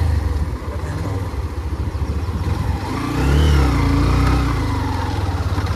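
A Hero Xtreme 125 motorcycle engine idles with a steady throb, then revs louder for a couple of seconds before settling back, heard up close with no talking.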